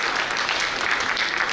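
Audience at an entrepreneurship and exploration event giving a steady round of applause, dense and even-level for the whole moment with no talk over it.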